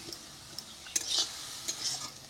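Chopped China shak greens are stirred in a pan over a low, quiet sizzle. A handful of soft scraping strokes of a utensil against the pan are heard close up.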